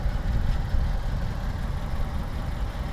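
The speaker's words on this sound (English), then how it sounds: "You can hear the engine just go on." A 1985 Alfa Romeo Graduate with low miles idles steadily, its engine giving a continuous low rumble with a gentle, even pulse and no other sounds over it.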